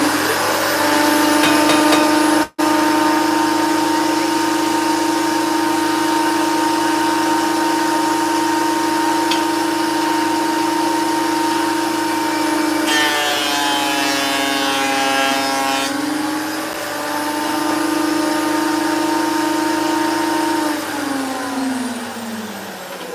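A thickness planer runs as timber boards are fed through. Its motor gives a loud, steady, close whine that roughens and shifts pitch partway through as a board passes, then settles again.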